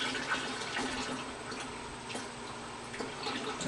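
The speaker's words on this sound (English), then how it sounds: "The remainder of the oil pouring out." Used engine oil drains steadily from a Vector W8 during an oil change, a continuous soft splashing pour, fairly faint and uninterrupted.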